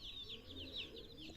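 Young chicks about 20 to 25 days old cheep in a rapid, continuous stream of high, thin peeps. The sound is soft and steady, with no voices.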